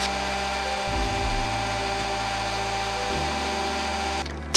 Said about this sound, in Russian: В некоторых труднодоступных местах использую барфрезы.